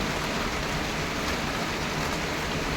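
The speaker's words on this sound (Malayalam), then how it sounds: "ഇങ്ങോട്ട് നല്ല മഴയാണ് രാവിലെ തൊട്ട് തുടങ്ങി" Dense, constant hiss of rain falling steadily, with no pauses or voices.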